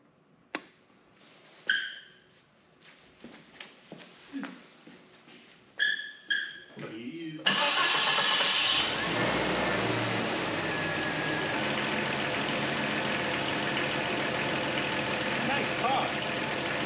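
A 1998 Jeep Cherokee with a blown power steering seal starts after several loud clanks and handling noises under brief talk, catching at once and settling into a steady, even idle that holds for the rest of the clip.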